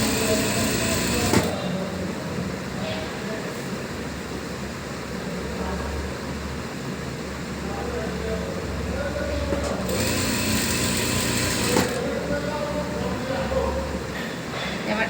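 A sewing machine hums steadily while stitching beside elastic on a salwar waistband, a low motor whir running through with brief pauses and clicks, close and moderately quiet.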